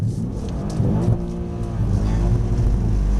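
Engine of a Mercedes-Benz car accelerating on a driving track, a low, steady rumbling drone that rises in pitch and strength toward the end, heard from inside the cabin.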